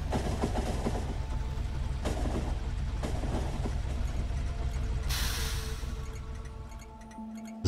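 A train rolls along rails in the video game Factorio, a steady rumbling run with faint rhythmic clatter, and a brief hissing burst near the end.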